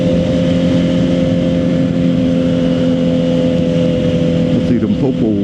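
Suzuki GSX-R 750 motorcycle engine held at a loud steady high-rev whine while riding, with wind noise and a quick drop in pitch at a gear shift near the end.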